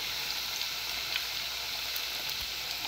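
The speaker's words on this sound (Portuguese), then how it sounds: "Tem que fritar nele de um lado, depois do outro." Rice and sausage fritters dusted in wheat flour fry in hot oil, giving a steady, even bubbling sizzle throughout with faint crackles.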